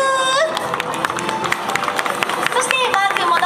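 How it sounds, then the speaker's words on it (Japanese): A stadium crowd at a baseball event with a mascot applauds in a dense burst of clapping mixed with cheering and babble, loud and close, while tonal announcer speech overlaps at the start. "千葉くんにも大きな拍手。"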